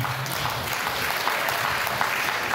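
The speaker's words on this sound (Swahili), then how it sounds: "piga makofi wote tena" Steady applause from a church congregation rolls on for a few seconds, many hands clapping in a dense, even wash with a hint of voices beneath.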